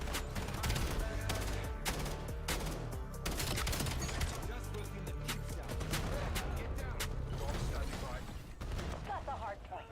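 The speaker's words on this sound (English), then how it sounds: "What the hell is this guy just continuously shooting for?" Sustained automatic gunfire in the shooter Black Ops 7, long rattling bursts of rapid shots packed close together with brief pauses, loud and near, while a player talks over the action.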